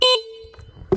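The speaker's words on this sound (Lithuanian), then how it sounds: "Signalas geras, galima parodyti." Toy-style electronic horn on a children's ride-on quad bike gives one short, loud steady beep at the start, followed by a long fading tone, faint handling noise and another brief burst at the end.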